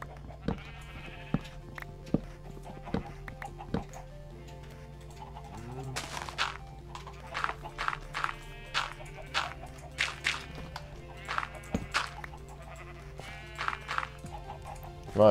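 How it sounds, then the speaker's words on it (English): Sheep bleating in the video game Minecraft, a run of short repeated bleats over a quiet background hum, with someone speaking softly at times. "Right, sheeps. I don't have any wheat for you"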